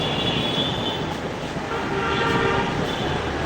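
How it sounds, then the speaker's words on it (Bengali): A Dhaka metro train passing overhead on a rainy day in Mirpur Shewrapara, a loud continuous rumble and rushing roar with a faint high tonal whine. "এমাত্র একটা মেট্রো গেল আমার উপর দিয়ে"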